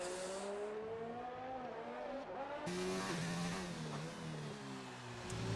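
A McLaren race car in a sim racing game, its engine note climbing and dropping through gear changes at steady speed, heard faintly and without voices.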